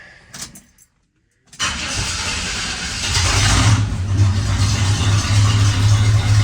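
An old project truck with no muffler cranks briefly, falls silent, then catches and fires up into a loud, rough, steady idle that grows louder as it settles, close by with no talking.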